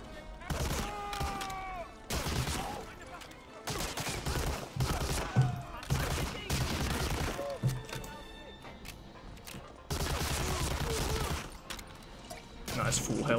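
Bursts of automatic weapon fire erupt from a machine gun nest in the World War II shooter Medal of Honor: Allied Assault, rattling in repeated volleys mixed with other game noise and someone talking over them.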